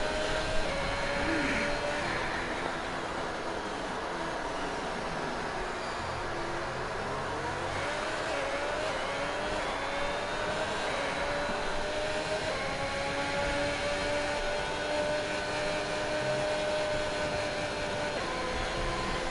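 Race car engine in a racing video game on a flying lap at the Belgium circuit, a steady loud high-revving drone with rising and falling pitch sweeps through gear changes, continuous throughout with no talk.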